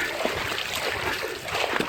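Feet splashing and sloshing through shallow water in Big Cypress Preserve in a steady, continuous churn, close by.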